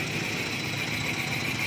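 A Yamaha Mio i 125 scooter engine, just revived after a hard-starting problem, runs at a steady idle with an even buzzing hum, close and moderately quiet, alone without voices.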